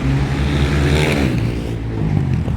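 A motorcycle or car engine passes on a city street in Lutsk, a steady loud motor drone that swells and shifts pitch near the middle and then eases as the vehicle goes by.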